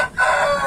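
A handsome bearded rooster of the pulva type crows once, loud and close, a sustained call rising after a brief quieter start, with no voices over it.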